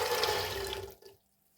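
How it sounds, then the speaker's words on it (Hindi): Soaked black chickpeas tipped into a pressure cooker: a wet, rushing pour lasting about a second, then tapering off into near silence. "अगर हम लेंगे कुकर तो सारे भीगे हुए चने हम इसमें डाल देंगे"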